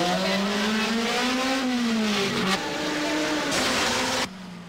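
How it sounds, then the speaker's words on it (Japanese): A race car engine climbs in pitch as the car accelerates out of the pit lane onto the circuit after a driver change during a long race. The engine is loud and close, with several rising and falling rev sweeps before it cuts off abruptly. "いよいよ和田がコースへと飛び出す"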